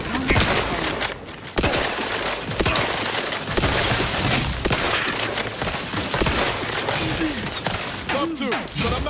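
Gunfire in combat in the Outer Worlds 2 video game: dense, loud, continuous bursts of shots and blasts layered with mechanical clatter and impacts, with a voice briefly heard amid the fight.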